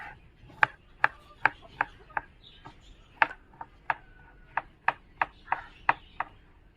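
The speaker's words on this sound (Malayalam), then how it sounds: "ഇതിങ്ങനെ തിരിച്ച് വെച്ച് വീണ്ടും ഇതേപോലെ തന്നെ കനം കുറച്ച് തന്നെ അരിഞ്ഞെടുക്കുക" A knife slices banana stem thinly on a board, about fifteen crisp, close chopping taps at an uneven, steady pace in a quiet room.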